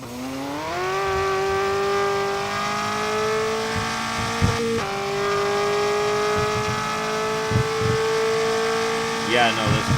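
A blower-equipped car's engine in a racing video game, holding a steady high whine that slowly climbs, with brief tire squeals and clicks while people talk over it.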